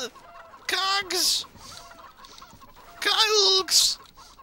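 Video game chickens cluck in loud, close bursts, two clusters of squawking calls separated by a quieter gap.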